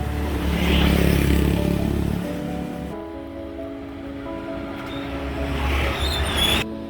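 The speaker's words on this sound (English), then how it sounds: "it has been non-stop motorbikes coming down this road full pelt" Motorbike engines rush past at full speed on a road in Ubud, Bali, one roaring by loudly, a quieter lull of distant traffic, then another bike revving up and speeding past.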